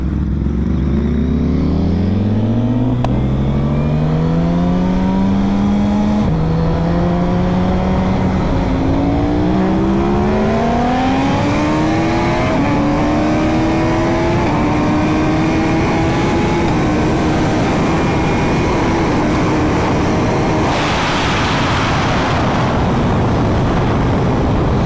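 A Ducati Superleggera V4 and a built-motor Suzuki Hayabusa accelerate hard in first gear, engines climbing steeply in pitch through a long, loud rising wail that swells toward a roaring peak as they pass.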